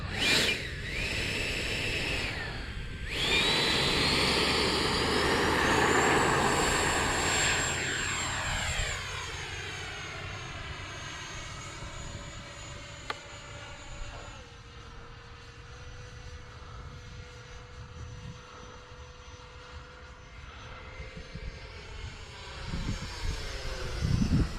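An X-Fly Sirius 80mm electric ducted fan RC jet screams loudly overhead, its turbine whine rising and falling in pitch as it passes and fades into the distance, with a steady hum continuing throughout.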